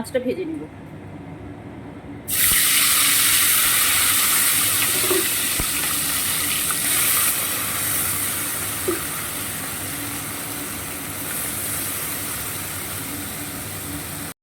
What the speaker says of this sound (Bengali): এখানে মাছটা ভেজে নিব মৌরালা